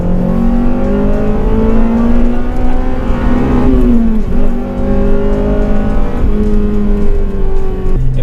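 Honda Civic Type R FN2 with VTEC and manual gearbox revving loudly from inside, engine note climbing through gears with clear pitch rises and drops at each shift, no talk heard.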